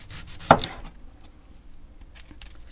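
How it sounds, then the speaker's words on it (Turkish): A knife cuts through a medium-sized onion with one sharp crunchy chop near the start, followed by quieter rubbing and faint scraping on a board. "Bir tane soğanım var, orta boy soğan. Şöyle kesiyorum,"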